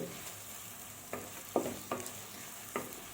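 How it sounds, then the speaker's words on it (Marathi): Two finely chopped onions fry in oil for a veg dum biryani, a steady low sizzle broken by four or five scraping stirs of a spoon against the pan, close and moderately quiet with no talking. "हे कांदे जे आहेत ते तेलात व्यवस्थित भाजून घ्यायचे"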